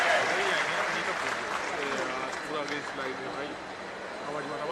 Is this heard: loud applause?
yes